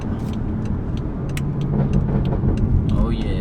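A BMW 440i revs its engine while driving, a close engine roar that swells toward the end, with a brief spoken exclamation over it.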